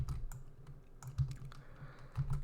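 Keystrokes on a computer keyboard, including a Control-Shift-Enter shortcut while working in a Google Sheets formula, come as soft, close clicks and taps at an irregular pace over a low hum.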